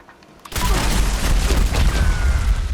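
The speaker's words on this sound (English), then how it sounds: "Explosive turrets. My god, explosive turrets." Explosive turrets blast in the video game Fallout 76: after a quiet half-second, a sudden loud boom hits and rolls into a sustained, heavy rumbling roar of continued explosions that lasts to the end.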